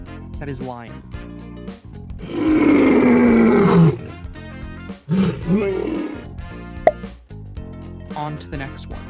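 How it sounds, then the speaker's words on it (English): A lion lets out a long, loud roar of nearly two seconds, followed by a shorter growling roar. Quieter sounds that may include voices come before and after. "Yes, that is lion."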